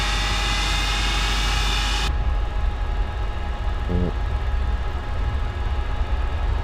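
Avro Vulcan XH558 jet engines spool up in Microsoft Flight Simulator 2024 as a loud, steady roar. A bright high whine drops away after about two seconds, leaving a deep, constant rumble.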